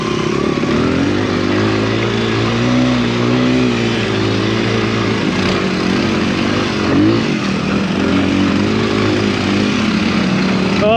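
Honda XR dirt bike with an enduro tire, engine revving and droning continuously while riding through snow in the woods; loud and near, with pitch rising and falling as the throttle changes.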